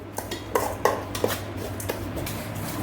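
Mango pickle being mixed in a bowl, with close clinks and scrapes of a spoon against the bowl and a few louder knocks over a low steady hum.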